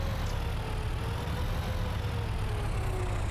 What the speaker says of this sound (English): You can't even hear it over the engine.